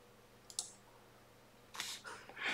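A computer mouse clicks quietly in a dance-software interface, a brief pair of clicks followed by a few more close clicks, isolated against near silence.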